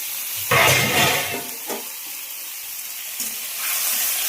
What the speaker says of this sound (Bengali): আমি এই যে এবার সবজিগুলো কষে নেব